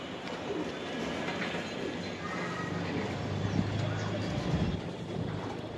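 Racer pigeons, including Pakistani Teddy birds, coo softly in the evening, their low burbling calls faint beneath a steady background hum.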